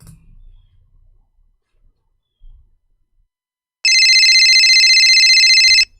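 A phone rings through an outgoing call, one long continuous electronic tone that comes in loudly after a few seconds of near silence and holds steady for about two seconds.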